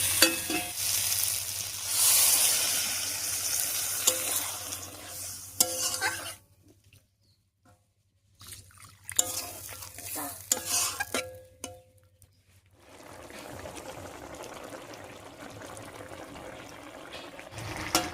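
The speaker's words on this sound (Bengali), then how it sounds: "এবারে জল দিয়ে দিচ্ছি।" Water goes into a pan of dheki shak (fiddlehead fern greens) fried with garlic and green chili, setting off loud sizzling and scraping stirs. A brief hush follows, then more spoon clatter and a steady, softer bubbling simmer.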